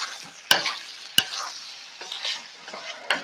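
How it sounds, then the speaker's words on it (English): Pasta noodles frying in butter and bacon fat are stirred in a pan, with a light steady sizzle broken by a few sharp clanks of the utensil against the pan. "You kind of want to stir that and break it up a little bit, just so they all get coated"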